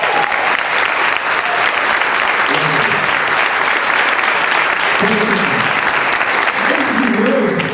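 A church congregation applauds its cell group leaders, loud continuous clapping from a full room filling the whole stretch, with a few voices rising underneath.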